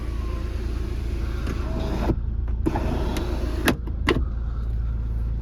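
Electric tilt sunroof motor on a Mercedes-Benz E220 CDI AMG Sport diesel hums steadily, with several short clicks and stops as the panel moves. No one talks over it.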